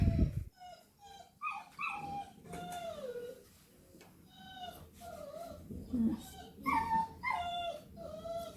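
Dogs whimper and whine in a series of high, wavering yelps and cries, close by, with a few short breaks between them during nail trimming.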